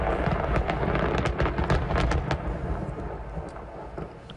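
A massive commercial fireworks explosion in a California neighborhood, a rapid burst of booming cracks and rumbling detonations with sharp pops layered over a continuous roar, loud and fading slightly toward the end.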